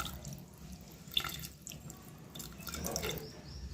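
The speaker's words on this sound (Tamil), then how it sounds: "இது அளவுக்கு தண்ணி சேர்த்துக்கலாம்" Water runs and splashes steadily into a pot for mutton biryani, a soft continuous pour with a few brighter splashes, no talking.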